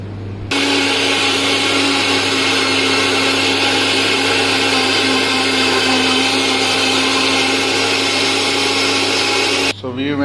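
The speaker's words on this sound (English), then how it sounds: "we have to grind our this tomato" A kitchen blender grinds tomatoes into puree, starting abruptly and running as a loud, steady motor roar for about nine seconds before cutting off. It is close and sounds alone, with no voices over it.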